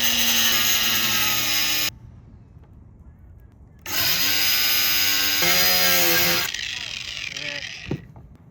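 A power tool cuts a sailboat's headstay wire on a Westsail 32 in loud, harsh bursts of whining grinding, with a pause between cuts before the noise tapers off.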